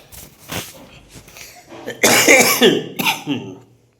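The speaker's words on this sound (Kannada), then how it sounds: "ಕೆಮ್ಮು ಬಂದೈತಿ ಭಾಳ" Several harsh coughs, scattered at first and then a loud close burst of repeated coughing near the end, with no talking.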